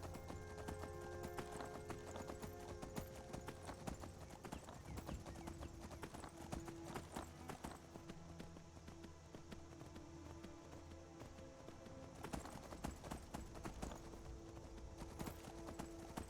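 Horse hooves clop rhythmically and continuously in Skyrim, a steady close galloping beat of hoofbeats with faint background sounds and no talk.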